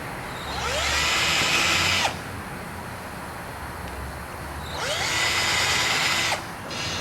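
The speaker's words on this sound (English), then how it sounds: "I'm going to drill some pilot holes in this one." A power drill whirs up twice, drilling pilot holes for screws, each run lasting under two seconds, high-pitched and close, with short pauses between.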